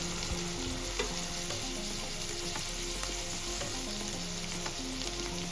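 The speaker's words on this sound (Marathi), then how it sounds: "शिमला मिरची पण सर्व साहित्यामध्ये व्यवस्थित परतून घ्यायची" Capsicum sautéing in a pan with the vegetables and spices for street-style masala Maggi noodles, a dense, even frying sizzle heard close up and continuously throughout.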